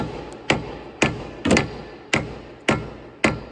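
Hammer tapping a part through the front wheel hub of a 2004-2011 Ford Focus during a wheel bearing replacement, six sharp metallic strikes spaced about half a second apart, close and fairly loud.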